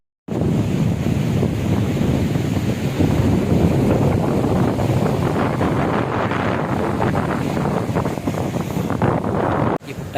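Strong wind roars and buffets the microphone while sea waves crash and wash onto Maypadu beach near Nellore at night, a loud, continuous churning rush that drops off abruptly at the end.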